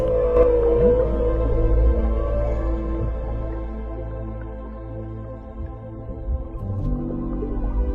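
A humpback whale calls in a long underwater vocalization, with rising moans and drawn-out tonal sweeps over a deep rumbling background.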